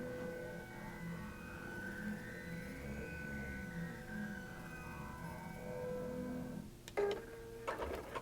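A QBOT V3 quilting robot driving a sewing machine, a steady mechanical whine and hum with shifting motor pitch, followed near the end by a few sharp clicks and clatters, no talk.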